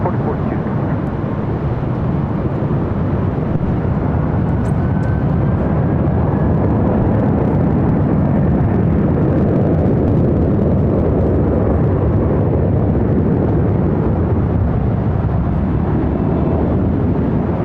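Airliner taking off from runway 24 left at LAX, a loud continuous roaring jet rumble with broadband wind-like noise throughout, close and powerful.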